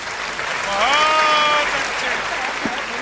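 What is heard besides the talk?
audience clapping loudly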